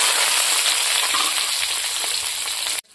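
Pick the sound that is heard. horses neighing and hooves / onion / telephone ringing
onion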